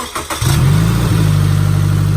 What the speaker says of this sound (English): gonna turn on the car for 30 seconds